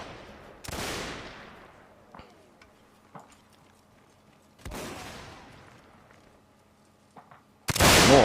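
Musket shots in Mount & Blade's North & South mod ring out as three sharp, loud reports spaced a few seconds apart, each with a decaying echo, and faint distant pops between them.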